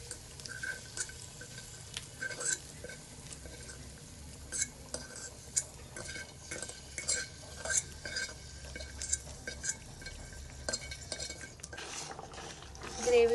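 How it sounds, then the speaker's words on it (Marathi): Fried paneer is stirred into pea gravy in a pan for matar paneer: close, repeated scraping and light metallic clinks of a utensil against the pan in an uneven rhythm, with no talking. "ग्रेव्हीमध्ये मिक्स करून घेऊया पनीर"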